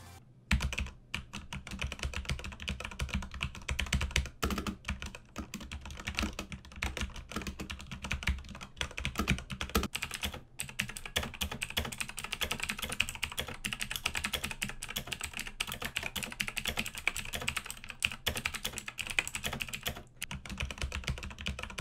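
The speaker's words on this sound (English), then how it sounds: "So I'm gonna try to do a sound test here." Rapid, steady typing on a Corsair K95 RGB Platinum mechanical gaming keyboard, a dense run of close, loud key clicks and clacks lasting throughout with no speech.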